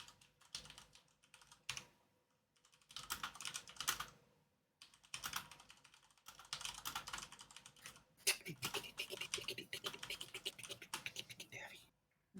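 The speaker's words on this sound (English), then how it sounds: "Yeah, my keyboard's mechanical." Typing on a mechanical keyboard comes in several bursts of rapid, clicky keystrokes separated by short pauses, close and fairly quiet, with a voice speaking faintly in places.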